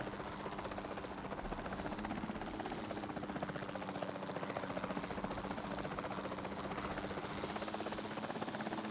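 Helicopter in the video game Jurassic World Evolution 2, a steady continuous rotor drone and engine hum at even loudness throughout, with no talk over it.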